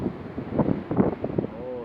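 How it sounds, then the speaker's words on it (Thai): Strong wind gusting across a sandy beach, a rough, rumbling buffet against the microphone that swells and dips for under two seconds, with faint voices mixed in. "โอ้ลมก็แรงนะ"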